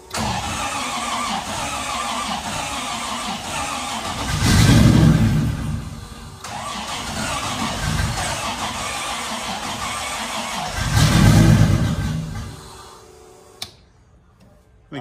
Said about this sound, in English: Oh wow, fuel pump just runs all the time in this thing.